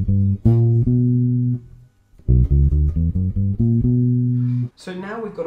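A bass guitar plays a harmonic minor scale, clear plucked notes one after another in a steady run, with a short pause partway through; a voice briefly speaks at the end.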